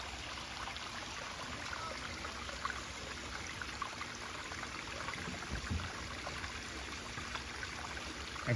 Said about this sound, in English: Like a little waterfall right there.